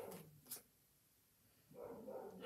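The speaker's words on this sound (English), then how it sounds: "Sorry about my dogs." Dogs barking nearby indoors during a love tarot reading: a few sharp barks at the start, then a pause, with a longer stretch of barking and yelping near the end.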